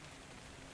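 Rain in the video game ARK Survival Evolved, heard as a brief, steady, soft wash of falling drops with no talk.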